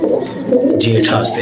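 Pet pigeons coo low and near under a man's speech, with brighter rustling or fluttering toward the end of the short moment.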